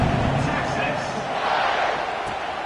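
A football stadium crowd sends up a broad, steady roar that holds at full loudness throughout, with a commentator's voice speaking over it.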